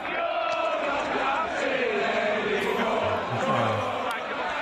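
Cricket crowd at the Oval jeering and booing a former captain, a dense, continuous roar of many voices with rising jeers, heard close and sustained throughout.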